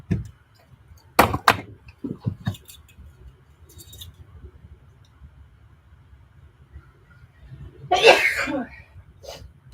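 A single loud sneeze bursts out near the end, close and sharp, after scattered clicks and handling noises during radio repair work at an RCA set.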